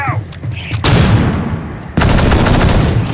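In a video game, a flashbang grenade blasts and heavy gunfire follows in two dense, loud bursts that fill the clip with booming, crackling shots.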